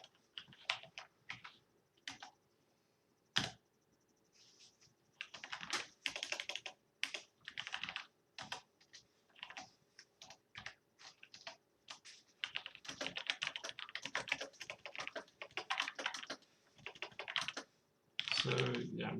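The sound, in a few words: typing on a computer keyboard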